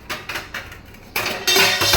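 Kitchen plates clattering as they fall, a few sharp ceramic knocks followed by a louder burst of jangling crockery, close and bright with no talk.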